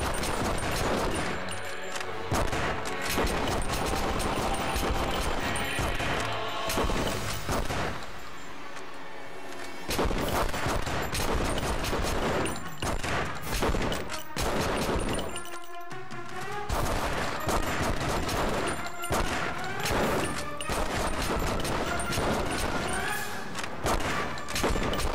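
Dense, continuous gunfire from dual pistols in The Punisher on the original Xbox, loud and sustained with a brief lull midway, mixed with game music and effects.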